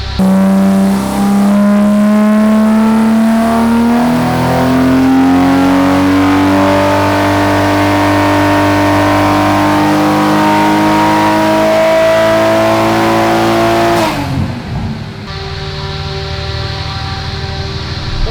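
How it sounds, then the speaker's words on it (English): A Toyota Supra running on ethanol blend at about 22 psi boost, revving hard on a dyno, engine pitch climbing steadily for about fourteen seconds before abruptly cutting off into a lower idle, loud and alone. "I feel like I can hear it when you start the dyno and it goes, wah"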